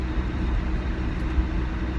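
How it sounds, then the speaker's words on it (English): Plastic bag window on a Ford Ranger flapping and rumbling while the pickup drives in Minnesota in October, a steady loud low buffeting roar of wind and road noise with no pauses. "sorry about the noise from the plastic bag window of my Ranger."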